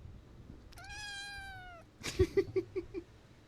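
A cat meows once indoors at a house, a clear drawn-out mew lasting about a second, followed by a rapid series of short, louder pulsing sounds close by.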